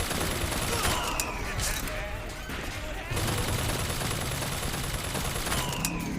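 Bursts of gunfire from a weapon in Bioshock Infinite combat, rapid overlapping shots in dense volleys with a short lull midway, loud and continuous.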